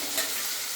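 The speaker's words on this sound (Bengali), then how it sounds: "এবার আলুগুলো দিয়ে একটু কষিয়ে নিই" Potato chunks fry in oil with spice paste for a meat pulao, a brief, dense sizzle close by with a quick stirring scrape.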